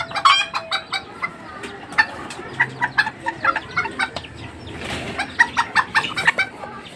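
A bantam hen clucking close by in a steady run of short, evenly spaced clucks, with some higher squawks and other fowl calls mixed in around them.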